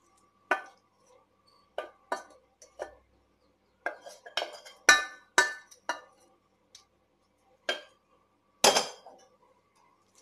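Noodles stirred and mixed with a metal utensil in a pan, with irregular sharp clinks and scrapes against the metal surface in scattered bursts separated by quiet pauses.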